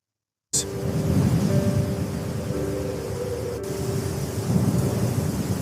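A cartoon thunderstorm begins abruptly with steady, heavy rain hiss and deep rolling thunder rumbling continuously underneath, loud and without talk.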